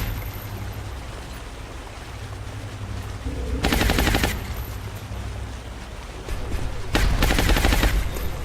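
A big gun in XCOM Long War fires two loud sustained bursts of rapid automatic shots, separated by a few seconds of low ambient hum.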